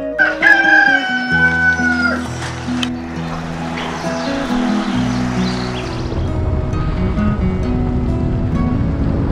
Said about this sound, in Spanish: Pollo, pollo, pollito chicken.